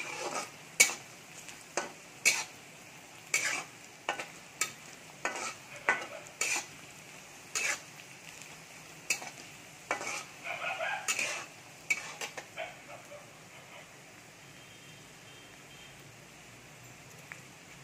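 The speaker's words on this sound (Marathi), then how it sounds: "आपण हे आता मंद आचेवरती भाजून घेणार आहोत." Cloves, black pepper and other whole spices are dry-roasted in a pan on a low flame for veg Kolhapuri, with a long series of sharp, irregular spoon scrapes and clinks against the pan, close and with no voices.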